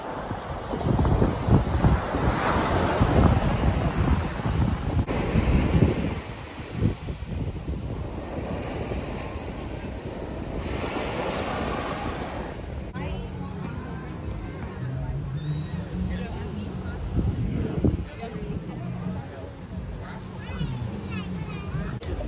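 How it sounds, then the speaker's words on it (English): Ocean waves wash ashore on a Maui beach at sunset, a steady broad surf roar heavily mixed with gusty wind buffeting the microphone, with people talking at times. "Now I'm watching the sunset on the beach."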